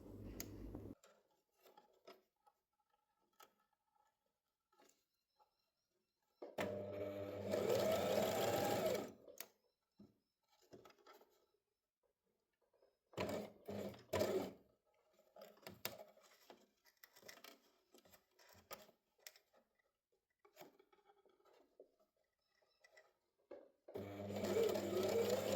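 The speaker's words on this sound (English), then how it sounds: "hold it tight and firm and stitch it all the way from end to end." A sewing machine stitching gathered wedding veil fabric runs in several bursts of close, steady whirring separated by quiet pauses, with faint handling noises in between.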